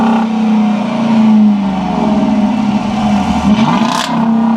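A 2013 Dodge Durango's Hemi V8 revs loudly and steadily up close, its deep engine note climbing and falling as the throttle rises, with no voices over it.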